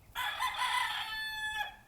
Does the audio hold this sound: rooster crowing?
yes